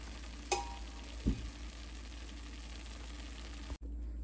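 White rice being stirred into coriander puliyogare paste in a pan, soft scraping and faint sizzling under a steady background hiss, with a couple of brief spoon knocks near the start.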